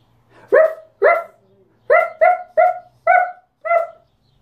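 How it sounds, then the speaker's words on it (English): A dog barking seven times in short sharp bursts, loud and close, with brief gaps between barks and no talking. "the sound of a dog barking."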